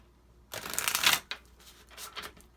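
Tarot cards being shuffled up close, one long riffling burst followed by two shorter, softer shuffles, with no voices.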